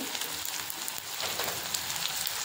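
Onion frying in hot oil with mustard seeds and cumin, a steady close sizzle with fine crackling, unbroken and without voices.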